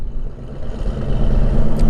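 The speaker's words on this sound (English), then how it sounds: "what you're hearing is this Miata over here." A Mazda Miata engine runs close by at a drag strip test-and-tune, with a low, steady rumble and slight rise in intensity, no voices.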